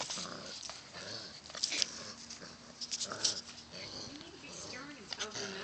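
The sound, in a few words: dog growling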